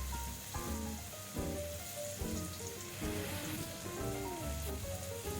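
Ginger slices fry in ginger oil in a wok over high heat, a close, steady crackling sizzle with dense spattering pops that swell in repeated waves, no voices over it.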